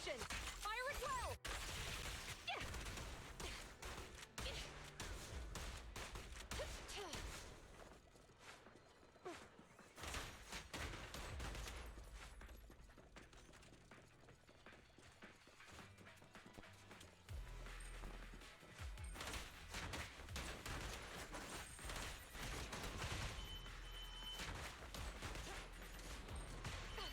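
Combat in the game Zenless Zone Zero with bursts of gunfire, sharp repeated shots and crashing impacts scattered across a long stretch, quieter in the middle, with speech at points.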